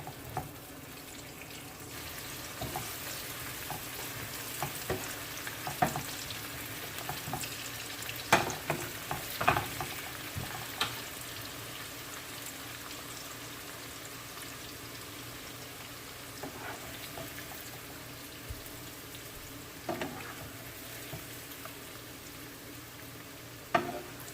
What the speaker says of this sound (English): Just gonna allow this to just boil for 5 minutes